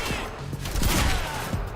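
Heavy pistol firing in Quantum Break, a quick volley of several sharp, punchy gunshots close by, mixed with a dense burst of combat noise.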